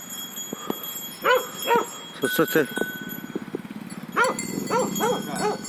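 A dog barks and yips in short repeated bursts near a sheep pasture on a mountain meadow, fairly close, with people talking over and between the barks.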